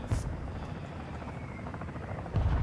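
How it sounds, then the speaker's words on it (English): A helicopter arrives in Call of Duty DMZ, its steady rotor drone loud and continuous throughout, swelling heavier near the end. "Oh, the helicopter coming in."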